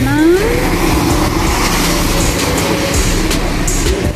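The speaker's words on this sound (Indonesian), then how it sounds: "Sudah 36 mobil yang lewat." Cars passing on a rainy road in Yunlin, Taiwan, a steady loud rumble of traffic with tyre hiss on the wet surface, continuous and close, with no talk over it.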